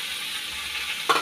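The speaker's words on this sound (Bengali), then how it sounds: "যে এখন সেদ্ধ আলুটা দিয়ে দিচ্ছি" Mashed boiled potato goes into frying soybean in a hot pan, giving a steady soft sizzle, with a short stir or clink at the very end.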